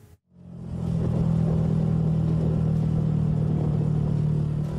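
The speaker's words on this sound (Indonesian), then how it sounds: "belasan truk pengangkut sampah antre di kawasan TPA Jatiwaringin" Garbage trucks idle in a queue at the Jatiwaringin landfill in Mauk, Tangerang. After a brief silence their diesel engines set up a loud, steady low rumble with faint clattering, and no voices are heard.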